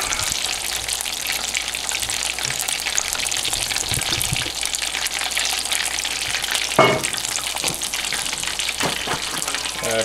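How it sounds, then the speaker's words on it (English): Fluke (flounder) fries in hot oil with a steady, loud, dense sizzle and crackle that holds throughout, with a brief clatter partway through. "And that fish is frying up beautifully."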